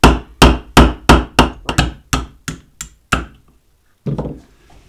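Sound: hammering 1/16 inch roll pin punch to drive out pin

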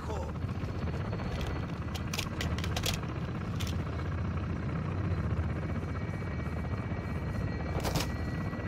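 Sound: helicopter in the video game Call of Duty: Modern Warfare 2

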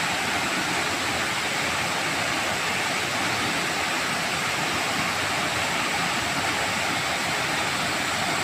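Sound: waterfall

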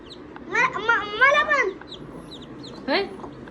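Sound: chicks cheeping

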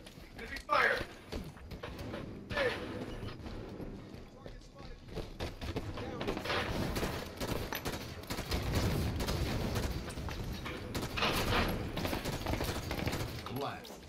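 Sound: gunfire in the video game Halo 5

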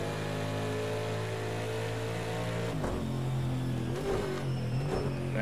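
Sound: IMSA race car engine on Long Beach street circuit

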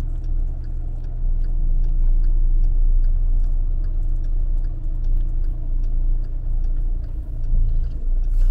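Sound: car driving on the road

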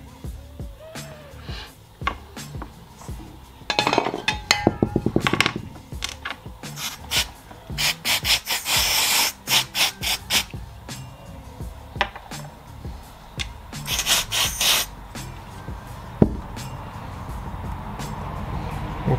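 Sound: scrubbing oil off motor parts during cleaning

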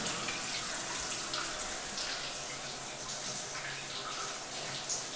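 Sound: shower water running

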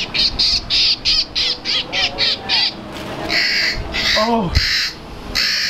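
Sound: electronic bird call noise device imitating a real bird

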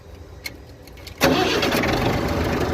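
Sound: International 444 tractor diesel engine starting

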